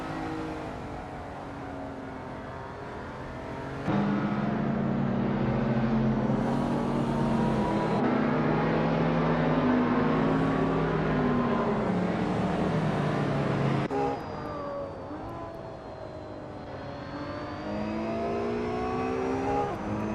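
Several racing cars drive in a racing video game, their engines humming and whining as they rise and fall in pitch, with one close car growing louder as it overtakes.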